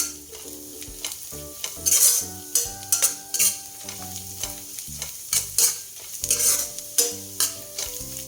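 Ingredients for chana masala, seasoned with black pepper, sizzle and fry in a pan while being stirred, giving a loud continuous hiss broken by repeated scraping strokes, with no voices.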